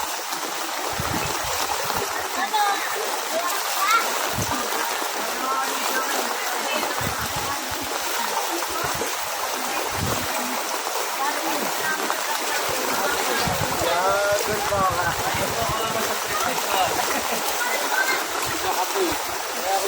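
Floodwater after Typhoon Enteng in Burdeos, Quezon, rushing and splashing in a continuous loud wash of flowing water that fills the whole stretch without pause, with voices faintly present beneath it.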